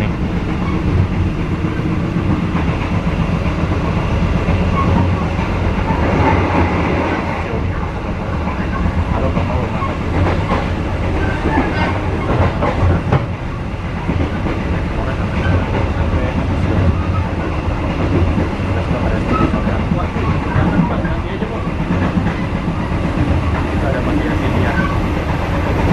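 Onboard a passenger train hauled by a vintage-livery locomotive speeding past Cakung station: steady loud rumble and rattling wheels on rails fill the whole stretch, with a hissing rush of air throughout.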